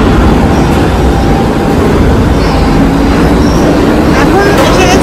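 Subway train at Cortlandt Street station in New York, a loud, continuous rumble of cars and wheels filling the platform, with voices mixed into the din.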